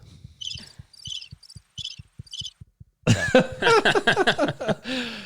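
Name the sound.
crickets chirping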